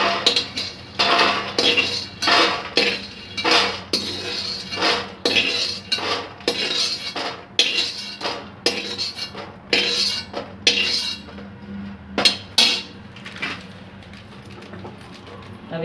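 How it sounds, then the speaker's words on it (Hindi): Roasted makhana (fox nuts) tipped from a kadhai into a metal vessel, giving repeated bright metallic clinks and scrapes in irregular bursts, close and fairly loud, with no talk. "अब हम इनको अलग निकाल लेंगे, किसी बर्तन में निकाल लेते हैं।"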